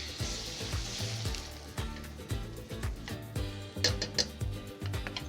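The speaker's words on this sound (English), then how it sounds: "A little bit of extra virgin Greek olive oil. This is going right into the hot pan." Beaten egg for an omelet fries in extra virgin Greek olive oil in a hot pan. The sizzle and crackle are soft and close, with irregular pops and no voices.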